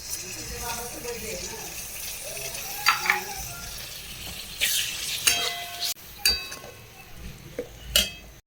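Onion, beetroot and tomato sautéing in a pan sizzle steadily while a spoon stirs and scrapes against the metal, with a few clinks and a voice talking softly beneath.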